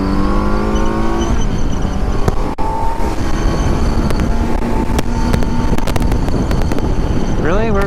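A 2019 Kawasaki Z900 motorcycle at speed gives a loud, steady engine drone under heavy wind rush, with engine pitch rising as it accelerates.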